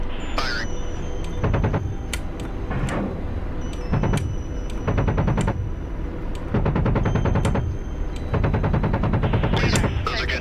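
Bursts of rapid automatic gunfire in a video game, fired after a radar lock, come in repeated loud strings of quick shots with brief gaps, under steady background rumble and radio-style voices talking.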